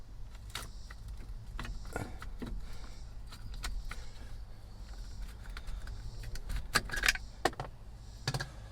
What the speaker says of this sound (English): And then your key slides right out